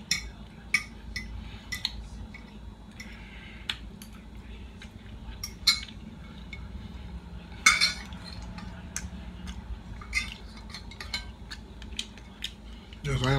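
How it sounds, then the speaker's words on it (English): Metal cutlery scrapes and clinks against a plate at breakfast, a series of sharp, fairly close taps and scrapes at irregular intervals over a quiet room background. "Yes, I am scraping the plate."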